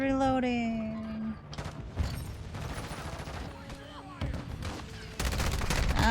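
Bursts of rapid video game gunfire crackle in clusters, with a sustained musical tone at the start and voices talking through parts of the shooting.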